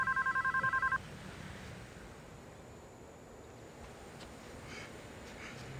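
A telephone rings in a short burst of rapid trilling electronic pulses lasting about a second, then stops, leaving a quiet room hiss.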